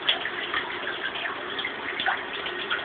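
Water gushes steadily from a broken shower into a bathtub, a continuous hissing spray at moderate level with no pauses or talk.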